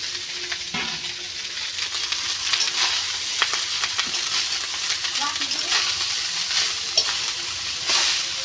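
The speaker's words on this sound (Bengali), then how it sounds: "বিরিয়ানি বলতে বুঝতে হচ্ছে ভাতটাকে হালকা ভেজে দিব" Leftover rice is lightly fried in a pan for a homemade biryani, giving a steady sizzle with frequent clicks and scrapes of stirring, while a voice talks faintly in the background.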